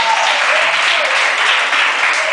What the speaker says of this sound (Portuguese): Vamos aplaudir o apoio